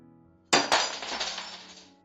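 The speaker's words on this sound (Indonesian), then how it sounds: "Foto yang digenggam Bella langsung pecah berserakan di lantai." A glass picture frame shatters on a hard floor with two sharp impacts in quick succession, followed by a bright, scattering tinkle of shards that slowly fades out.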